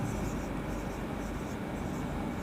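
Pen or marker writing by hand during a Class 11 NCERT maths lesson on sets, a steady soft scratching that runs continuously and close, alone without talk.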